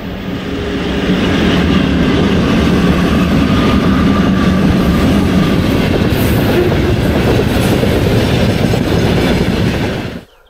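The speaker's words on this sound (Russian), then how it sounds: "Вот поезда ходят." A train rumbles past up close on a single-track railway, loud and continuous, wheels clattering over the rails for several seconds before the noise cuts off.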